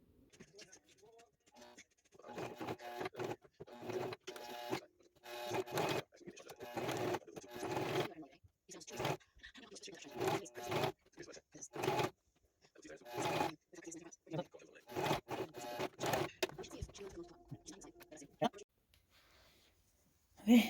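A sewing machine stitches leftover T-shirt fabric in short, repeated bursts of motor whir separated by brief pauses, close and moderately loud.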